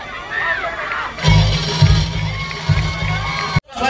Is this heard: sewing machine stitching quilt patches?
no